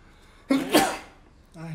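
A single sharp sneeze bursts out, close and loud, followed shortly by a brief voiced sound.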